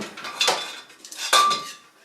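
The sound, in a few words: old iron frying pan being handled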